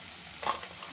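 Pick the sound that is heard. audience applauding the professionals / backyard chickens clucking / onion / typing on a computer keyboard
onion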